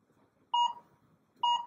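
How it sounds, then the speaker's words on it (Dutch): A workout interval timer gives two short, clear electronic beeps about a second apart, marking the countdown into a rest break during an ab exercise session. "En als je de timer zo meteen hoort, hebben we 10 seconden rust."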